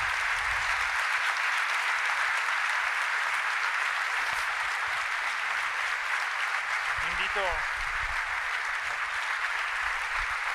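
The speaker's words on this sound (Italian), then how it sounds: "un altro grande applauso al professor Paolo Crepè." Sustained applause for Professor Paolo Crepè from an audience at a live event, a steady wash of clapping filling the whole stretch with faint voices underneath.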